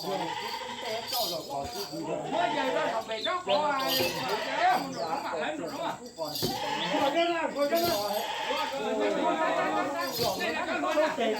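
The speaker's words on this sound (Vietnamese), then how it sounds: "Con dê này là con dê đực nha, con này tầm hơn 30 cân một tí." A male goat of just over 30 kg bleating at a clan ancestral worship ceremony, its calls rising repeatedly through dense, lively crowd chatter and occasional clinks.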